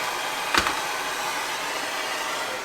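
A heat gun blows a steady hot-air roar while warming Kaizen foam in a tool box, starting with a brief click and whoosh and then holding an even, close whir.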